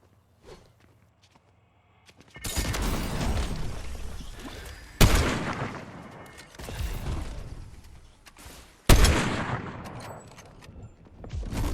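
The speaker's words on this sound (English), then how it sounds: "I then missed a shotgun shot which got me killed." Sharp gunshot blasts in the video game Fortnite, with two loud, abrupt reports standing out amid ongoing game action and footsteps, the shots spaced a few seconds apart.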